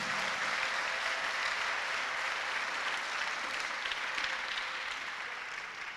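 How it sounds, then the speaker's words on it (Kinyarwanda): A church congregation gathered for a night service applauds in steady, continuous clapping. The clapping is moderately loud and evenly sustained across the room, then eases slightly at the end. "Muhe Imana amashyi"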